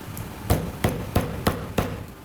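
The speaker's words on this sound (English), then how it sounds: "When you cover it, you need hammer, okay, to hit it so that it will lock." Hammer striking a high heel shoe insole to lock its shank cover in place, five sharp evenly spaced blows about a third of a second apart, close and clear with no talk.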